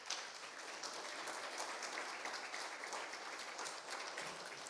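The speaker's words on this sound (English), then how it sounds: "So give yourselves a round of applause." Sustained applause from an audience at a community organizing talk with a Baptist preacher, dense and steady throughout with no one speaking over it.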